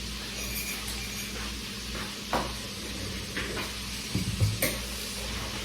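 Fish fries in a pan with a steady, quiet sizzle and hiss, broken by a few soft clinks and stirring knocks near the end.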